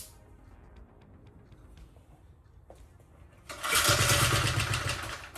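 A mini bike's small engine sputters and clatters briefly through several start attempts, then catches and roars loudly for a couple of seconds before fading, close by with no talk.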